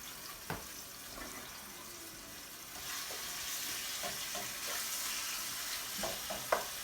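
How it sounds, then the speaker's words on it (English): Seasoned chicken browns in a pan for a chicken pot pie, giving a faint steady sizzle with occasional soft clicks and scrapes. "we're going to let that brown"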